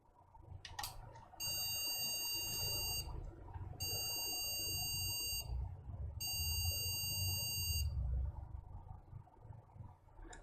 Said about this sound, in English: We should get RAM error beeps.